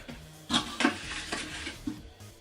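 Scoop scraping the bottom of a protein powder tub, a few short dry scrapes and knocks close by, quiet and alone.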